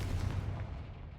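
A Confringo fire spell from Hogwarts Legacy blasts off with a heavy, booming low rumble that fills the whole moment, loud and close, with no talk over it.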